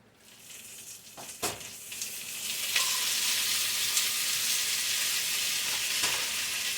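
Potatoes fry in a crowded skillet, a faint hiss rising after a couple of clattering knocks into a steady, bright sizzle that carries on alone, with small pops and spatters.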